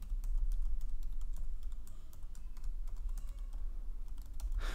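Rapid keystrokes on a computer keyboard, a close, dense patter of light clicks running continuously with a short pause midway, no voices.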